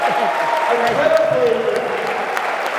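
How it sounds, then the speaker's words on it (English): Steady applause from a crowd at an honorary ceremony fills the clip, with a voice speaking over the clapping. "Another round of applause for Pat Zerbe."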